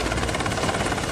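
An MH-60R helicopter flies close by with a loud, steady rotor thrum and engine roar that carries through the whole stretch.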